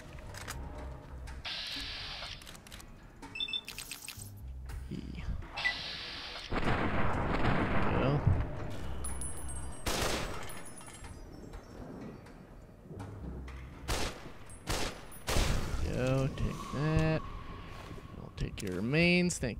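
Automatic rifle fire in the video game Fallout New Vegas (Dead Money DLC), bursts of rapid, loud shots mixed with game effects, while someone talks over the action.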